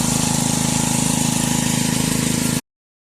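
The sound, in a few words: gas-powered pump engine running at gold prospecting site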